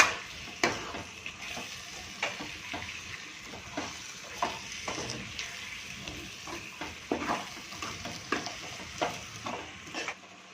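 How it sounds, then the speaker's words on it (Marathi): Marinated chicken being stirred into a sizzling spice mix in a pan for methi chicken, with regular spoon scrapes and stirring knocks about every half second over a steady close fry, no talking. "हे सुद्धा आपण छान मिक्स करून घ्यायचं याच्यामध्ये"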